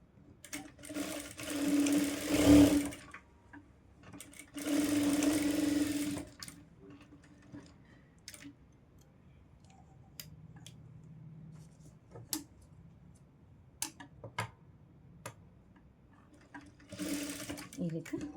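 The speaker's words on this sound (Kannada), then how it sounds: "ಅಟ್ಯಾಚ್ ಮಾಡಿಕೊಂಡು ಡಬಲ್ ಸ್ಟಿಚ್ನ ಹಾಕೋಬೇಕು" A sewing machine stitches fabric for a child's lehenga blouse in short bursts of rapid whirring, two longer runs early and another near the end, separated by quiet pauses with small clicks and handling sounds.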